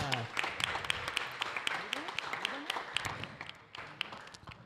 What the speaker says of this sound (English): give a round of applause to Artur Dodonka